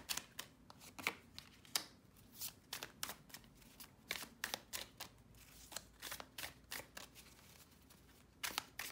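A deck of tarot cards is shuffled by hand, a steady series of soft, crisp riffling snaps close by and fairly quiet, repeating about once or twice a second with no talk.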